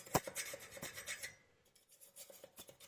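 A fork with grooved tines scrapes a bike wheel in quick, soft rasping strokes, a run of short scratches followed by a few sparser ones, quiet and close.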